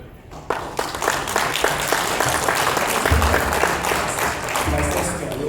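Audience applause at a Hasbro Marvel panel at San Diego Comic-Con 2015: steady, close clapping from a packed room for several seconds, with voices mixed in underneath.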